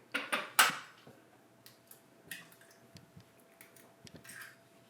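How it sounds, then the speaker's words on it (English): An egg is cracked against a bowl and dropped into plain whole milk ricotta, giving a few sharp taps and a wet squish followed by faint clinks and soft dripping, close and quiet. "in my ricotta, I'm going to crack an egg."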